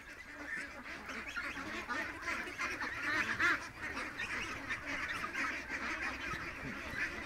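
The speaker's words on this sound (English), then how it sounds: "Listen to the little quack" A small duck quacks repeatedly in a steady, fairly close stream of nasal calls with no talk over them.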